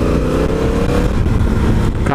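A Honda Africa Twin motorcycle accelerates in a loud, continuous engine roar, heard up close on an off-road test ride with some wind noise.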